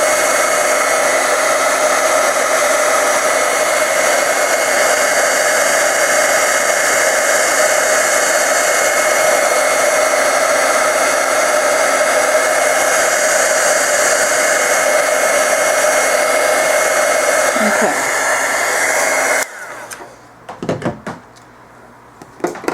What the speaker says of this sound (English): I'm going to take my heat gun and heat that up until you see it looking a little shiny.